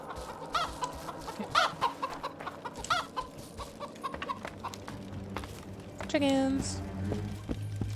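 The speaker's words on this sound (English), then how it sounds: "Chickens." Chickens cluck in The Witcher 2: Assassins of Kings, several short clucks scattered over a steady game ambience, with a louder drawn-out call near the end and someone talking over part of it.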